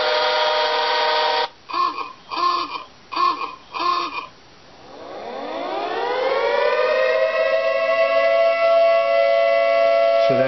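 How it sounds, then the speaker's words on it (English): A siren sound effect from a BoeBot-based robot steam train built for a robot parade, first a few short electronic pulses, then a long tone that rises and holds steady, loud and alone. "so that siren will go off on different parts of it"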